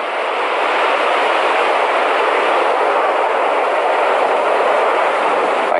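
An aerial rescue tram rides its cable above a cliff-fall victim, giving a steady, loud broadband rushing rumble that holds unchanged and close throughout, with no voices.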